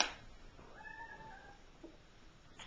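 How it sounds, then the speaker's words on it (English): A single cat meows once, faint and fairly distant, in an otherwise quiet indoor space. "Did you hear a kitty?"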